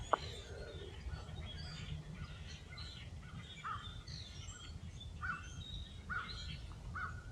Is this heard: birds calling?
yes